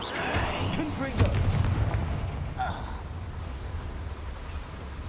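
A Confringo blasting spell in Hogwarts Legacy bursts in a mine full of Ranrock's loyalists, giving a heavy boom and crackling rumble amid loud game ambience.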